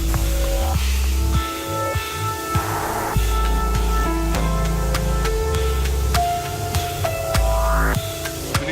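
A steady broadband hiss of water spraying onto a 2018 Range Rover Velar to build up ice continues throughout, with scattered clicks and low rumbling machinery tones underneath.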